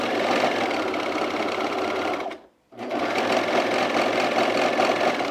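A serger runs a side seam on a fleece half-zip sweater, a loud, close, continuous mechanical whir that stops briefly partway through and then starts again at full speed.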